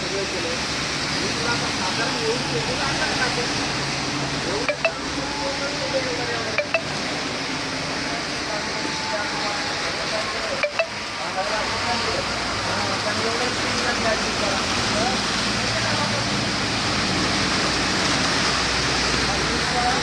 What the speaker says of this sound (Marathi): अति जोराचा पाऊस चालू आहे